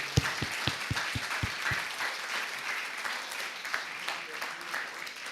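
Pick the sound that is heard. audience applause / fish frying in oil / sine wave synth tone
audience applause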